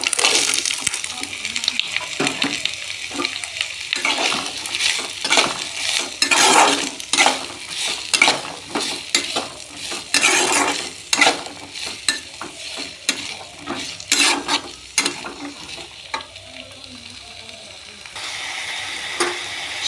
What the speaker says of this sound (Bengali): মশলাটা কষানোর পর ঝিরিঝিরি করে কেটে রাখা পেঁপেগুলো দিয়ে দেবো